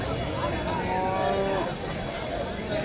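Cattle low repeatedly at a busy livestock market where cows are being sold, the moos rising over a dense crowd murmur and background chatter that fill the whole stretch.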